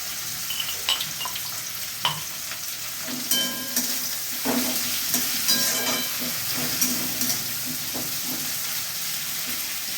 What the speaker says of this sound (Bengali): এখানে আদা রসুন কাঁচা লঙ্কার পেস্ট আছে এটা দিয়ে দিচ্ছি